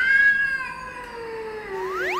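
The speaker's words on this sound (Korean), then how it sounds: "태식이한테 고양이가 아주 환한 울음소리를 들려줘 볼게요" A single drawn-out cat meow, loud and close, falling in pitch, then a rising wail at the end.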